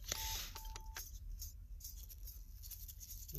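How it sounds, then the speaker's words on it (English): A pager beeps as a page comes in: a few short, clear electronic tones sound in the first second, then fade into quiet background patter with no voices. "He paged me on the pager with his phone number."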